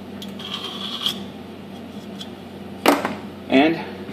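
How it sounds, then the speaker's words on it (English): A hand file scrapes a burr off the inside of a part turned on a Microkinetics 1236 CNC lathe, giving several short, close, raspy strokes in separate bursts with quiet gaps between them. "Pull that burr off the inside."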